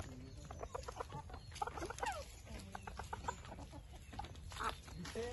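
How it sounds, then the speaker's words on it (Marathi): Chickens on a picnic outing give repeated short clucks scattered across the clip, faint and close, over low background rumble with a little quiet talk. "मोठे कोंबड्या आहेत"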